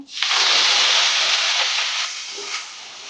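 Chana dal and curry leaves crackle and hiss loudly in hot oil, a sudden sustained sizzle close by that softens slightly after a couple of seconds.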